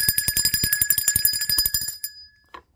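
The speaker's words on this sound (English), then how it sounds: "Let's ring the bell for that." A small bell is struck rapidly and repeatedly for about two seconds, bright metallic rings overlapping, then it stops and fades, followed by one faint tap.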